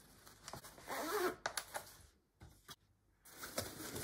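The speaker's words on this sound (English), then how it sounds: "then zip up this zipper here" A zipper on a Joolz stroller seat is drawn closed in quick rasping pulls, close and fairly quiet, with brief pauses and handling noise between strokes.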